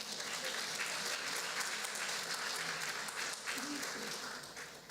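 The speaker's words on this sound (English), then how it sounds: "Would you please clap louder for her?" An awards-ceremony audience applauds in a sustained wash of many hands clapping, fairly loud and steady before easing off slightly at the end, with faint voices mixed in.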